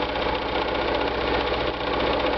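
A home sewing machine runs steadily through free-motion quilting of interlocking rectangles with matching thread, giving a continuous close mechanical hum with a fine rapid stitching pulse and no pauses or voices.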